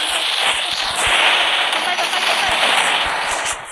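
Rapid gunfire in the Free Fire mobile game, dense bursts of sharp repeated shots layered over a constant wash of game noise, loud and close throughout.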